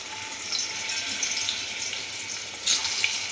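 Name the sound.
frying pumpkin pieces in a pan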